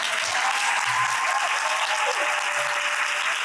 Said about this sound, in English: and y'all give them a round of applause